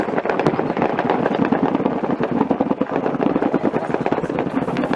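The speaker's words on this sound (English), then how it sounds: "We heard the battle from a bunker on the United Nations base" Battle in Bentiu, South Sudan, heard from a bunker on a United Nations base: dense, continuous bursts of gunfire and explosions crackle and thud without pause, loud and close-sounding throughout.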